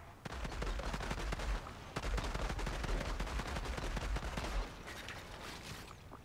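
Sidearm gunfire in the Outriders video game comes as dense, rapid crackling shots layered with heavier thuds over a continuous roar of combat, with a brief gap in the middle.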